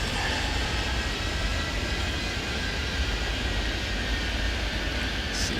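Airplane engine in the airport game Airport Madness 3D, a loud, continuous jet roar and rumble holding steady throughout, with no voices.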